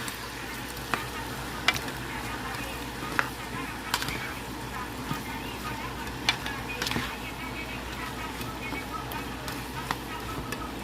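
Potatoes fry in a pan with green peppers and onions, giving a steady broadband sizzle with occasional sharp clicks of stirring utensils throughout; a voice talks quietly over the cooking.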